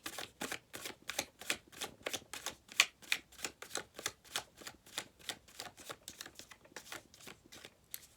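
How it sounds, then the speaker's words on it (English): Rapid, rhythmic riffle-and-snap of tarot cards being shuffled, a quiet close-up series of papery flicks repeating steadily with no voices. "we're going to give it one more shuffle"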